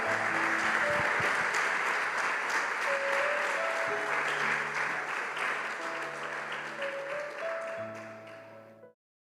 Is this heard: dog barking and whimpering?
no